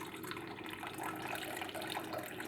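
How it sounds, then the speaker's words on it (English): Liquid mixture of water and sand pours steadily into a jar during a classroom demonstration of insoluble substances, a continuous close trickle and splash that holds an even level throughout, with no voices. "So I'm pouring my water or my mixture into the jar."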